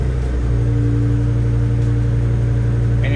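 A BMW E60 M5 with its V10 engine, modified to run on E85, revs loudly up close, a sustained rumbling drone that holds steady through the whole stretch.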